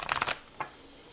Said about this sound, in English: Let's get a shuffle here.